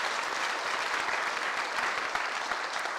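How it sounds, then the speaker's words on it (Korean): A Sunday worship congregation gives a sustained round of applause, a thick, even roar of many hands clapping that holds steady throughout without speech. "박수 한번 합시다"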